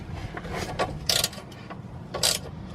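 A ratchet wrench turns a bolt on the rear control arm of a BMW E60, giving short clicking bursts in two louder spells against steady garage background noise.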